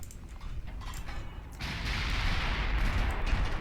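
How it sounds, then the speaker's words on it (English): Naval gun turret fire during a battle in Ultimate Admiral Dreadnoughts, heard as a muffled boom that gives way to a sustained, loud rumbling roar. "Now, whose turret's firing on Suffolk?"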